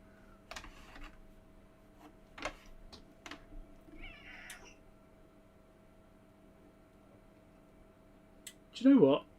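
A house cat meows loudly and close by at the end, after a quiet stretch of faint clicks and tapping at a workbench.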